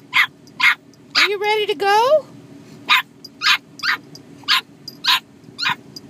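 A dog gives a wavering whimper-like yelp, then a string of short, sharp, close barks at a steady pace, while a person speaks briefly in between.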